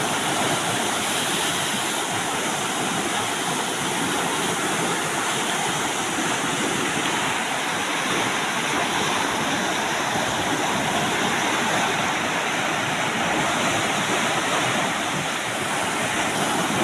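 Water rushes hard through the gate channel of the Botad branch canal, a dense and continuous roar held at a steady loud level throughout, with no voices.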